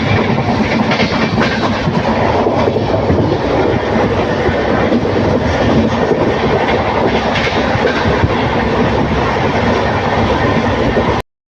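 From inside a passenger train running at speed between Coimbatore and Erode, a loud, continuous rumble and rattling wheel clatter carry on without a break.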